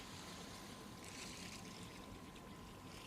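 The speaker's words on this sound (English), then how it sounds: "Just listen to the gentle sound of the waves lapping on the beach." Gentle waves lap steadily on a beach, a soft continuous wash of water that stays faint and even throughout, with no voices and a thin steady tone running beneath it.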